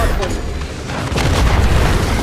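Explosions in Black Ops 6 multiplayer, a loud continuous wash of booming blasts and bursts with dense rumbling low end, rising in intensity toward the end, with game noise layered underneath.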